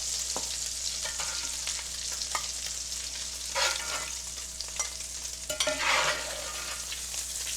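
Food sizzles and fries steadily in a hot frying pan, with occasional stirring scrapes and clinks of a utensil over the constant hiss, in a kitchen where Salisbury steak patties have just been cooked.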